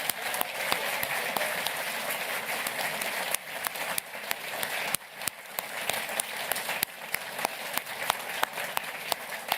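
Applause fills the hall at a university PhD hooding ceremony as the audience thanks staff volunteers, a continuous wash of clapping with a few sharper individual claps standing out, lasting the whole stretch.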